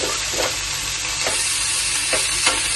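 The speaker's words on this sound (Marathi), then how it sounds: "टमाटा कांदा शिजून घेऊया आपण." Tomato and onion frying in a pan for a mutter paneer gravy, a loud, steady sizzle with a few scraping stirs of the spatula breaking through.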